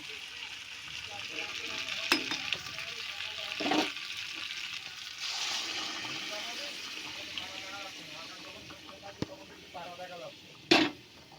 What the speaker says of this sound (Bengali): এবার আমি জল দিয়ে দেব, গরম জলটা দিয়ে দেব।